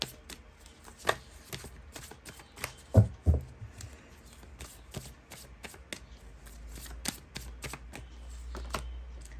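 Cards from an old tarot deck being handled and shuffled, a run of crisp close flicks and light taps with a couple of louder snaps, over a low steady background hum.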